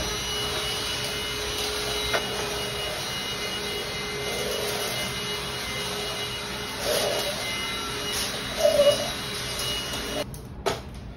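A lightweight household vacuum cleaner running behind a house, a steady whirring drone throughout with brief bumps and clatter, while a person talks over it.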